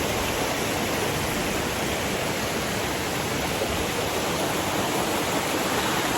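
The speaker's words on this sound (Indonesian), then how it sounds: "Ada sungai juga." A river stream flowing beside a mountain hiking trail near post 3 of Gunung Butik, 1250 m, as a steady, dense rushing wash of water, close and continuous with no voices.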